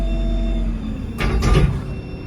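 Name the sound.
van sliding door closing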